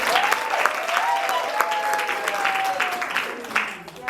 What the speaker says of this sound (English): But please, we clap for him.